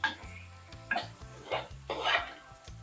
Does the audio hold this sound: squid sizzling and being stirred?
yes